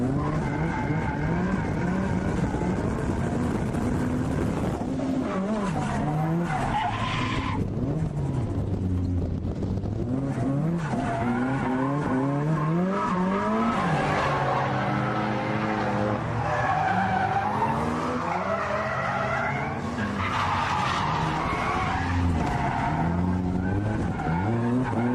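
A turbocharged SR20-engined car tuned for torque drifts through street and track corners, engine roaring loud and close with rising and falling revs, rear tyres spinning and squealing continuously over the engine.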